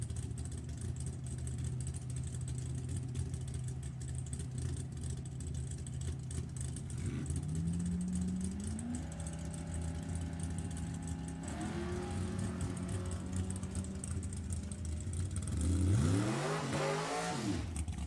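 A '67 Camaro and a Mustang GT 350 idle at the drag strip. Their engines rumble steadily, climb through a couple of revs, then surge into a loud, rising launch roar near the end, with no talk.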